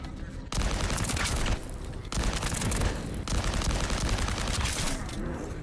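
Sustained bursts of hip-fired gunfire in a shooter video game, loud and dense, starting after a short pause and running in long stretches with brief gaps between bursts, no talk over it.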